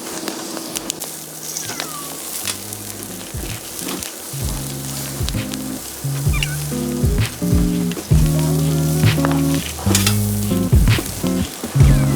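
Meat grills over a wood campfire while camping, sizzling and crackling steadily up close with frequent sharp pops and snaps that grow louder toward the end, and no talking.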